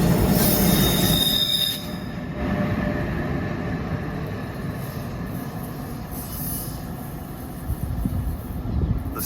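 A New Jersey commuter train on a local run toward New York pulls away with loud, sustained wheel squeal and rumbling railcars, the grinding staying strong throughout with brief surges near the end.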